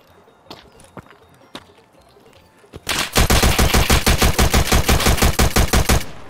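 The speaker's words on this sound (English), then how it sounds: "What gun am I shooting?" Rapid automatic gunfire in the Escape From Tarkov video game, a few scattered shots followed by a loud, sustained burst of evenly spaced rounds lasting about three seconds, close and dominant.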